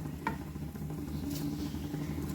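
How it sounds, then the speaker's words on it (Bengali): Broccoli drops into a pot of boiling salted water, a brief splash followed by continuous soft bubbling and patter over a steady low stove hum. "এর মধ্যে এবার ব্রকলিগুলো দিয়ে দেব।"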